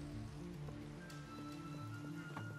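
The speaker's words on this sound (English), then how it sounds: "Oop, it's raining." Rain falling in the Minecraft video game, a constant soft patter and hiss that runs steadily throughout, faint and layered with low game ambience and a few light ticks.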